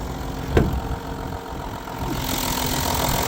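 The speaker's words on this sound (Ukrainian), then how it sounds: "Ось вам робота двигуна" A car engine idles steadily with a low, even rumble, joined by a single sharp knock early on and a brighter hiss toward the end.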